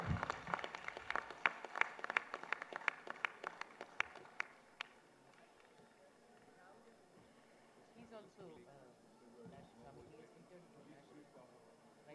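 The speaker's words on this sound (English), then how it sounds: "Can we have a huge round of applause for Nidhi Agarwal?" Scattered clapping from an outdoor audience at a school Founder's Day award ceremony, sharp and fairly close for about four seconds, then fading into quiet murmur and faint talk.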